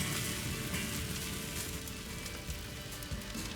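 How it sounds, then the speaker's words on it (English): Steady crackling sizzle of stone sheep ribs cooking over a fire, a dense continuous hiss with faint pops, moderately close and without voices. "Just listen to that sizzle."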